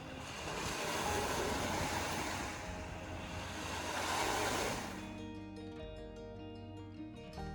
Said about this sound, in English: watching the waves crash onto the shore